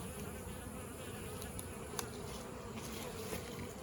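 Honey bees buzz in a continuous, dense drone, close and steady, with no voices, at hives in autumn during feeding and Apiguard treatment.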